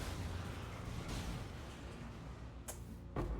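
Video game explosions rumble and roll continuously as a broad, loud wash of noise, with a couple of sharper bursts near the end.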